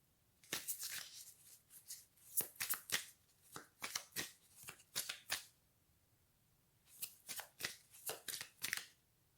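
An oracle card deck is shuffled and a card drawn, with rapid bursts of close, crisp riffling and flicking, a short pause in the middle, then another flurry.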